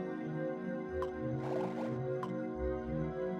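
Water drips in The Lost Files of Sherlock Holmes game as a couple of faint, spaced plinks over a quiet, humming background.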